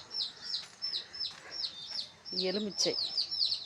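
Young chicks chirp repeatedly in a home yard near lemon trees, with high, bright peeps coming in quick bursts at close range while a person talks briefly.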